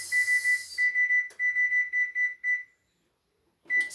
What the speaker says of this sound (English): I'm going to put the timer on.